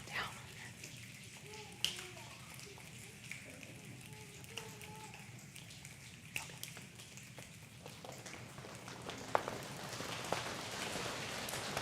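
A church congregation at an annual water communion imitates falling rain with their hands, making soft, scattered pattering and snapping that thickens into a steady rain-like hiss, with voices murmuring underneath.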